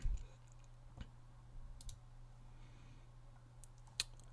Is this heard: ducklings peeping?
no